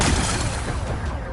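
Rocks are blasted apart in Horizon Forbidden West with a loud, rumbling explosive burst. The roar is brief and fades over about a second.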